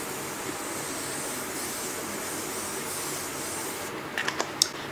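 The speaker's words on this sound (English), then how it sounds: "set my face with the Morphe continuous setting spray" Morphe continuous setting spray mists onto a face in one long, steady fine hiss close up, ending with a few soft taps and clicks.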